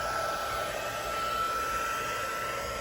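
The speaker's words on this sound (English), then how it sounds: "one thing about using a heat tool is you can also kind of blow your ink around, which makes it more concentrated" A heat tool blows a steady stream of air across watercolor ink on paper, giving a constant, fairly loud whooshing hiss that holds unchanged throughout with no talking.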